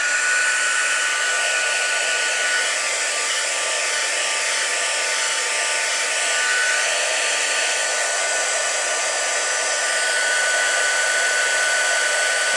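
A heat tool heat-setting paper for card embossing blows with a loud, steady whirring rush of air that runs continuously without a break.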